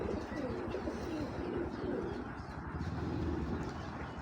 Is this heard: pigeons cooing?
yes